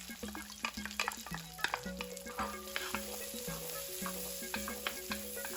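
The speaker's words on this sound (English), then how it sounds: "Then I'm going to fry the onions in the leftover bacon fat." Onions fry in leftover bacon fat in a pan, a steady close sizzle with crackling pops and occasional stirring scrapes throughout.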